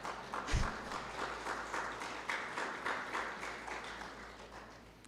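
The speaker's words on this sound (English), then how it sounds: "So no one wants to give a round of applause to AI?" An audience at a talk on discerning truth about AI gives a moderate round of applause, soft continuous clapping with a slightly muffled, roomy quality, steady and unbroken from start to finish.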